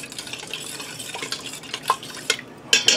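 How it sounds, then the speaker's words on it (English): Spoon scraping the bottom of an Instant Pot pressure cooker to loosen browned fond, soft irregular scrapes and light metallic clicks, close and fairly quiet, growing sharper toward the end. "I'm scraping the bottom of the pressure cooker to get the little burn bits off the fond"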